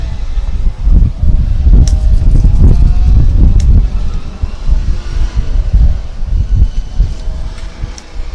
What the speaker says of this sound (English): So now the wind is slowly picking up